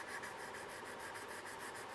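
Sandpaper curved into an arc rubs a part of an AH-64 Apache scale model kit fuselage in quick, regular back-and-forth strokes, a faint, close rasping with no talking.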